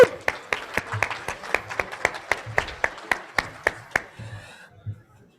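A conference audience gives a short round of applause, a quick run of roughly even claps that fades out after a few seconds.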